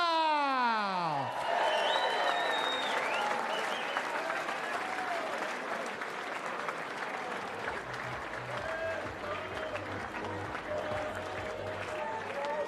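A large crowd at a women's world darts championship final applauds steadily and loudly, a dense wash of clapping that carries on without a break, with a few cheers mixed in.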